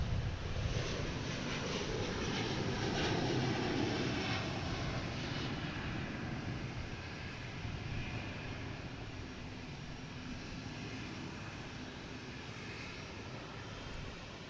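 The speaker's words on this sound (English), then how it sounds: "We have an A330 heading to Amsterdam. A330-900." Jet engines of an Airbus A330-900 at Boston Logan airport make a moderate, steady rumble and hiss that eases slightly in the second half, without speech.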